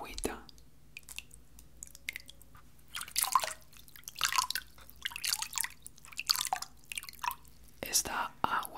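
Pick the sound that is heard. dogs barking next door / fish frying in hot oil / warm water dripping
warm water dripping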